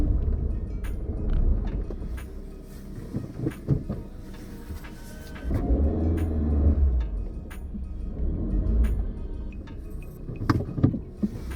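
Suzuki Vitara on winter tires with good tread, its engine rumbling and surging as the front wheels spin for grip in a shallow field rut off-road, with scattered knocks and creaks over a steady low drone.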